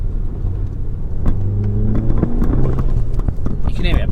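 A car fitted with an APR open carbon fiber intake drones while driving, with a low engine hum and rising intake whoosh under cabin noise, a few faint clicks and knocks, heard from inside the car.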